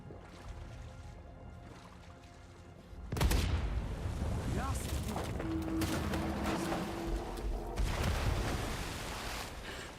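Explosions and gunfire in the action game Uncharted 4: a sudden loud blast at about three seconds, then a dense, sustained barrage of booms and shots that stays loud to the end, after a quieter stretch at the start.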